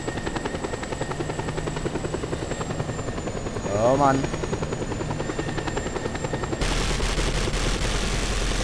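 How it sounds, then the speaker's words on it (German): Helicopter rotor drone from the video game Just Cause 2, a steady loud whir running throughout with a brief swelling sweep midway, gunfire-like bursts and a man's short exclamation over it. "Zum Glück haben wir jetzt einen Helikopter."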